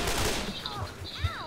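Rapid gunfire in Left 4 Dead 2, a dense burst of shots mixed with game effects and whooshing tones, loud and busy throughout.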